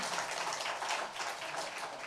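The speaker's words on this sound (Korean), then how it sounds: "그거 읽었다고 박수 받는 거 보면 니들 오늘 아주 복 탔다, 복 탔어" Congregation applauding during a Korean Sunday church service right after a scripture reading, a dense steady patter of many hands clapping at moderate distance for about two seconds, with no talk over it.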